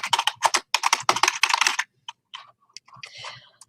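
Rapid bursts of typing on a computer keyboard, dense clicking keystrokes close up, then a pause and a few scattered key taps with a final cluster of clicks.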